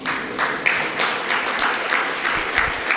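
Audience clapping in a lecture hall after a medical talk, a steady burst of applause from many hands that runs throughout, fairly loud and close, with no speech on top.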